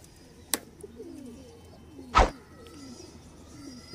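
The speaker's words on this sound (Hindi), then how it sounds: "जेनवन सलारा टेडी कबूतर, सलारा टेडी जोड़ा" A pair of Salara teddy pigeons coo softly in low, repeated murmurs close by, broken by two brief sharp knocks or flutters.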